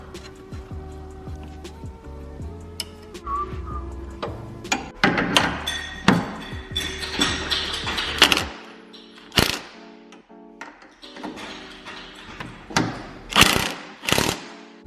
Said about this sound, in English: I'm just gonna go ahead and get all these bolts tightened up now.